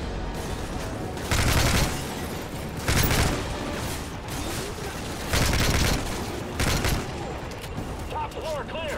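Heavy gunfire in Call of Duty: Modern Warfare 3, with repeated loud bursts of automatic shots in clusters spaced a second or two apart over a steady background of game noise.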